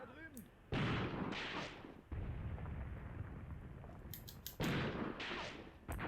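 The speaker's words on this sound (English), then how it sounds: "What are you shooting at, Villinger?" Gunfire and artillery-like blasts in a Graviteam Tactics battle on the Luga Line, coming as several loud bursts separated by rumbling gaps, with fainter crackling shots in between.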